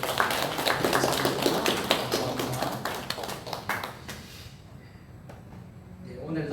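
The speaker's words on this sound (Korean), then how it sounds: "우리 송준영 목사님 오셨는데 박수로 좀 환영해 주시기" A church congregation claps to welcome a visiting pastor, with several seconds of dense, lively applause that thins out and dies away near the end, while someone speaks briefly over it.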